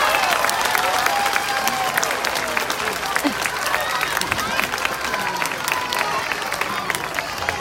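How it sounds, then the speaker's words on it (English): Applause and cheering from a school audience at an elementary flag-raising ceremony, honoring a retiring art teacher; steady, dense clapping fills the whole stretch with some crowd babble mixed in. "Please give her a big round of applause."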